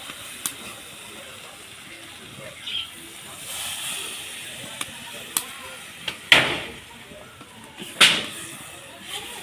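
Water poured onto fried spices in a pan for tangra fish curry, giving a soft steady hiss with a few sharp, louder sputters and bursts, close by, and a voice talking at times.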